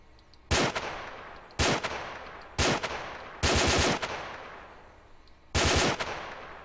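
L85 rifle gunfire in Garry's Mod, heard as five loud close bursts, some single shots and some rapid multi-round strings, each trailing off with a decaying echo and separated by short pauses, with no voices.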